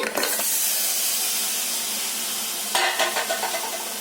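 Washed mutton pieces hit a hot pot of spiced oil with a loud burst of sizzling, then steady frying hiss continues, with a second stir partway through scraping and clattering over the sizzle.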